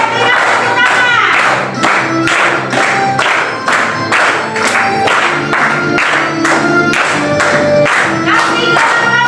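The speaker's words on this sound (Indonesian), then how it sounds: "Oke, berikan tepuk tangan." A classroom group claps along in a steady rhythmic beat with a teacher during a children's sing-along, the loud regular claps mixed with young voices and music throughout.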